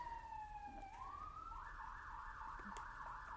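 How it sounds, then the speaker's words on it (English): An emergency siren sounds outside, faint and distant, rising in a steady wail before switching to a fast warbling yelp. "I don't know if you can hear the sirens going off right now"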